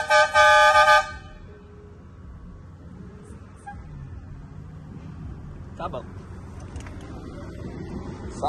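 A loud car horn blares for about a second, then fades into quiet background noise with occasional voices talking nearby.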